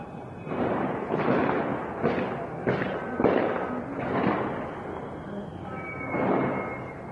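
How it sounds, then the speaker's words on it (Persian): Heavy gunfire in Sanandaj during the protests: a series of loud, booming bursts roughly every second, with ringing echoes and a rumbling tail after each, and no voices. "بامداد دوشنبه 2 آبان صدای تیراندازی شدیدی در سنندج شنیده میشه"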